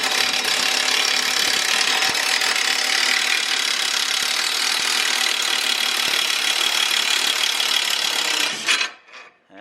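A pneumatic impact wrench removes wheel nuts on a Nissan 350Z, buzzing and rattling steadily and loudly for about nine seconds before cutting off.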